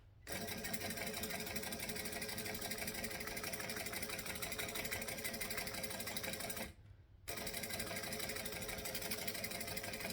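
A sewing machine stitches a handbag at steady speed, its rapid mechanical whir continuous and close, with one short pause near the end before it resumes.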